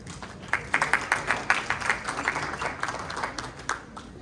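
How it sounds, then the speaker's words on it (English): Audience applause at an annual alumni dinner, a crowd clapping steadily for a few seconds before tapering off, moderately loud in a large room. "Please give a big round of applause for all these volunteers"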